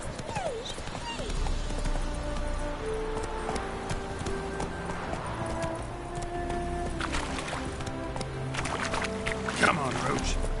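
The horse Roach trots with rhythmic clip-clopping hooves in the video game The Witcher 3: Wild Hunt, a steady mid-distance beat over ambient game music and environment sounds.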